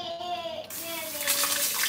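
Water gushes steadily from a kitchen tap while a pork chop dinner is being cooked, a broad continuous splashing rush that swells louder in the second half, with a faint tone underneath.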